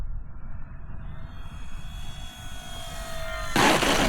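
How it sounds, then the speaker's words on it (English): An E-flite T-28 1.2 m RC model airplane comes in to land with landing flaps down in a crosswind. A steady motor drone carries a slowly falling whine, then ends in a sudden loud, rough burst as it touches down. "This plane usually lands a little bit better than that"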